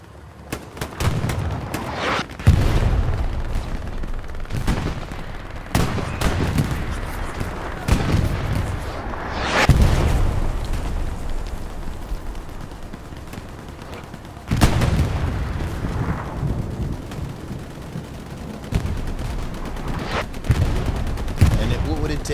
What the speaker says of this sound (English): a nice arty round in by that artillery guy for Vanguard